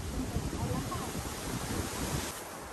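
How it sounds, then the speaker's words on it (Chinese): Strong, gusty wind buffets the microphone on a seaside mountain trail, a steady roaring rush that drops off slightly near the end, with faint voices mixed into the noise. "这个风好像那种台风哦"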